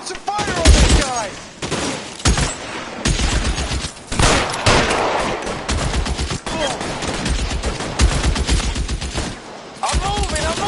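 Rapid bursts of gunfire from LA Noire's shootouts, loud automatic volleys and single cracks firing near and repeatedly, with shouting voices between and over the shots.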